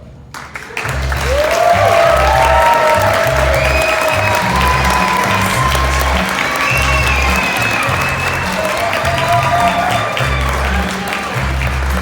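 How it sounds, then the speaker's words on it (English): Wedding guests break into applause after the father of the bride's speech, a sustained, loud round of clapping and some cheering from the crowd, with music and voices underneath. "How about a round of applause one more time, everybody?"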